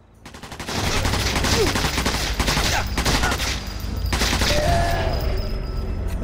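A submachine gun fires in Sniper Elite 4 in sustained rapid bursts, loud and close, with short breaks between volleys and a low rumble underneath.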